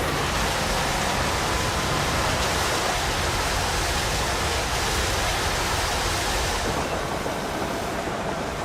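Water is pumped from tanks at about 150 psi onto an oil well fire to cool it. A loud, continuous rushing hiss carries on without a break, like a heavy stream of water, with no voices.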